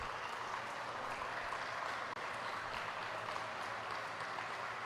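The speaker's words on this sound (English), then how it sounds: "he is met by a round of applause by his teammates" Teammates on the bench applaud a player during a Chooks-to-Go NBL Chairman's Cup basketball game between Taguig Generals and La Union PAOwer, steady clapping mixed into a constant arena crowd roar with one brief sharp dropout midway.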